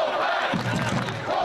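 A crowd of about 9,200 fans at Lamport Stadium in Toronto cheers loudly for the Wolfpack, a dense roar of shouting voices that swells partway through and holds steady.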